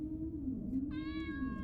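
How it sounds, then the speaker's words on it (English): A cat meows in the Space Pilgrim video game, a single drawn-out call rising above a steady low hum of game ambience, fairly clear and close. "There's the cat."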